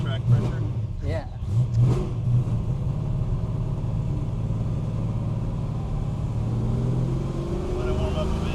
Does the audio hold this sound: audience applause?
no